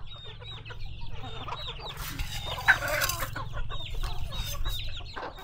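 A rooster and hens cluck and call close by, with a brief crowing burst in the middle, over a steady low hum.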